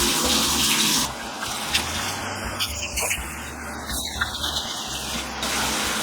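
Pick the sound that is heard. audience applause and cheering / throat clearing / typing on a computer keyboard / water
water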